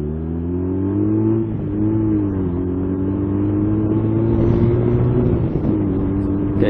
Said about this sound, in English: he's absolutely revving the tits off it.